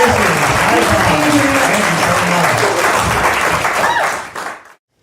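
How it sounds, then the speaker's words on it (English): A large audience at a Los Angeles fireside chat and comedy show breaks into loud, steady applause that holds for several seconds, then fades out quickly at the end. "Let's give them all a huge, huge round of applause."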